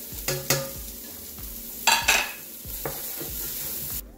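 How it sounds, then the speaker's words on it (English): Ginger and onions fry and are stirred in a pan for aloo gobi, with a steady sizzle broken by a few sharp spatula scrapes and clanks, close and clear with no talking. "Now I just like to cook the ginger until it gets translucent"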